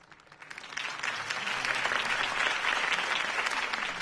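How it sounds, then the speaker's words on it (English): A crowd applauds after a campaign speech in the video game Batman: The Telltale Series, clapping swelling over the first second into a steady, dense ovation that holds to the end with no talk over it. "could have heard that applause"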